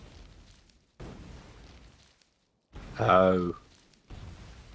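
Grenades go off among trees in Factorio, a few bursts with low booms spread across the clip, one louder and closer than the rest, and a voice exclaims briefly between them.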